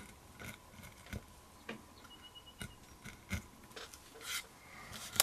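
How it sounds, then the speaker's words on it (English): Hand carving tool cutting wood with the grain, producing soft, close scraping and rasping strokes at an irregular pace, each a brief peeling cut, fairly quiet with no talking. "generally it's better for me to carve with the grain."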